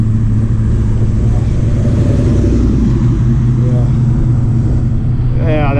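Car engine droning steadily while driving uphill around a car show park, a loud continuous low rumble with the pitch rising as the gears change, heard from inside the car with a person talking over it.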